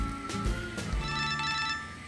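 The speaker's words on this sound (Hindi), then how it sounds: "मेरा फोन बज रहा है।" Mobile phone ringtone playing a steady electronic melody with tonal notes, fairly loud and continuous over a low background.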